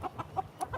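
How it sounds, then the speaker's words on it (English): Chickens running loose in a yard in Georgia cluck softly in a quick, uneven series of short calls, faint and close by with no talk over them. "these chickens are running around."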